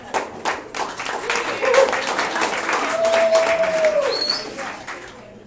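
Audience in a comedy club applauding a comedian, a full wash of clapping that swells and then tapers off, with a sustained whistle riding over it near the end.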